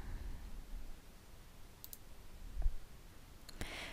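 Mouse clicks in the Coolors web app, a few quick sharp clicks spaced out over quiet room noise, close and fairly faint.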